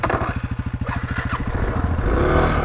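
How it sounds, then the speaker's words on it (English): Cold off-road motorcycle engine idling with a steady low putter on the Golan Heights, its pulses growing rougher and louder toward the end as the revs pick up, close to the listener. "my engine is cold."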